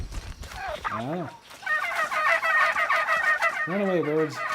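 Turkeys gobble loudly and close in Shadow of the Tomb Raider, with rapid warbling calls in short bursts, one long run of gobbling in the middle and more toward the end.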